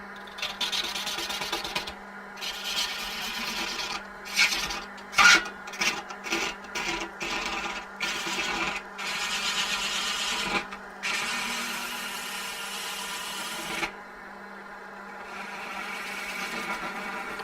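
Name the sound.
woodturning gouge cutting wood on a lathe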